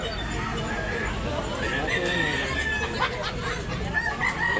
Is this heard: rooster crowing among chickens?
yes